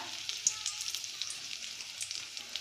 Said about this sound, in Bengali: আর আমি আবার সর্ষের তেল দিয়েছি, এবার শুকনো লঙ্কা ফোড়ন দেবো কটা